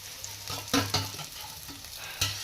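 Boiled noodles fry and stir in a pan on a gas stove: a steady soft sizzle with scraping stirs and a few sharper clinks of the utensil against the pan, close by and without talk.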